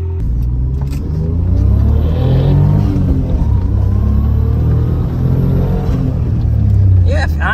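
A Suzuki Cappuccino's small engine revs and accelerates with a steady rumbling drone, growing and holding, close up, with some faint talk underneath.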